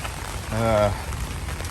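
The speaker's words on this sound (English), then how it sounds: "it's going to rain all day" Steady rain falls on outdoor surfaces during a heavy storm day in Wasco, with a continuous wash of drops and a brief tonal voice-like sound partway through.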